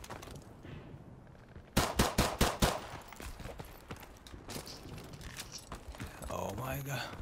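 Gunfire from a weapon in Call of Duty 4 Remastered multiplayer gun game: a sudden loud burst of about five rapid shots, followed by scattered game noise and fainter activity, with a voice talking over parts of it.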